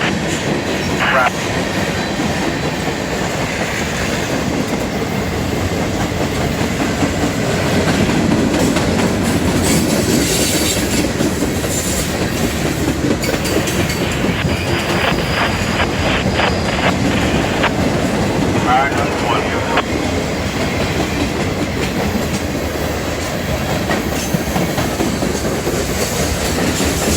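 A CSX freight train, Q371, rolls past steadily with continuous loud rumble and rhythmic clickety-clack of wheels over rail joints, plus occasional faint squeals, lasting throughout at close range.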